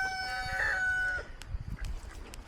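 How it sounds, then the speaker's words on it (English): A farmyard hen, agitated during an eclipse, lets out a drawn, faint squawking call followed by a few scattered low clucks, with goats and other animals quietly nearby. "This chicken is still throwing a fit."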